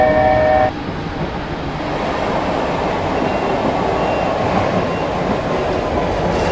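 A regional train in Train Simulator 2015 pulls away from a platform on the Augsburg to München line, with a brief tone at the start followed by a steady low rumble and rolling noise that holds at an even, fairly loud level.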